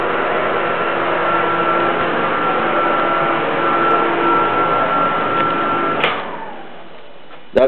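A bathroom exhaust fan wired to the light switch runs with a steady, loud whirring hum and a faint tonal whine, then cuts off with a clunk near the end.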